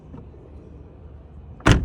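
The door of a 2011 Ford Edge, its handle mechanism under repair, unlatches with a single sharp clunk near the end after a quiet stretch of low background rumble.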